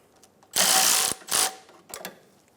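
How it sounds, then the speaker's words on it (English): Ratcheting clicks come from a hand wrench tightening the serpentine belt tensioner on a 2003-2007 Infiniti G35, two longer bursts followed by a couple of short, faint clicks, close and alone. "Tighten the tensioner down."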